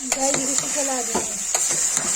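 A spoon scrapes and stirs soya chunks frying in a pressure cooker over a steady sizzle, with a few clinks of utensil on metal and a voice talking over it.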